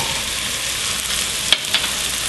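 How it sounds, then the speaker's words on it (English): Beef for stroganoff sautés in a pan with a steady, fairly loud sizzle, punctuated by a couple of sharp utensil clinks near the middle. "And we'll just saute those up."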